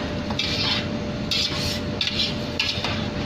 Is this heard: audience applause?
no